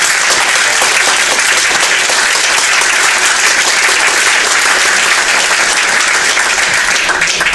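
Loud, sustained applause from an audience at a college board of trustees meeting, a thick continuous wash of clapping lasting several seconds without speech.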